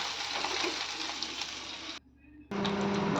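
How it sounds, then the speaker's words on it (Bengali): Chicken pakora pieces fry in hot oil, giving a steady loud broadband hiss that cuts out briefly and then resumes as more pieces go in. "এবার এই চিকেনের টুকরোগুলোকে একে একে আমি ভেজে নেব।"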